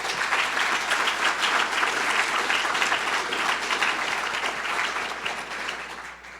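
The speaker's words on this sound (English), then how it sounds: "Please join me in a warm round of applause for all of them." A civic forum audience applauds in a steady, dense wash of clapping that holds for several seconds and then begins to taper off.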